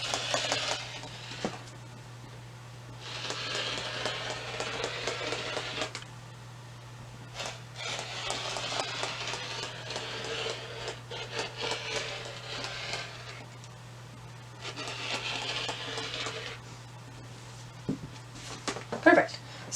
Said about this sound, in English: So I'm going to go ahead and cut this whole big piece out.